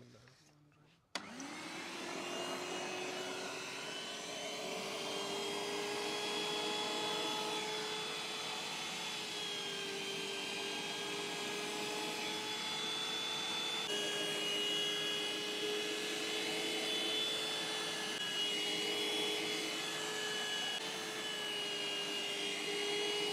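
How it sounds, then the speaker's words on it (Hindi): An electric meat mincer switches on and grinds a chicken mixture through a fine mesh plate, its motor holding a steady, loud whining drone with stable tones after a brief start. "मिक्स करने के बाद अब हम इसको मशीन से निकालेंगे बारीक वाली जाली से।"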